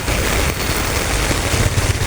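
Downpour of heavy rain amid street flooding, a continuous loud roar of water with a low rumble beneath, steady and near.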